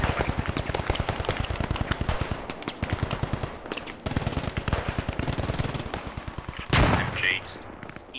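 Rapid, sustained machine gun bursts in the video game Post Scriptum, set on Utah Beach, loud and close with brief pauses between long strings of shots, ending in a heavier blast.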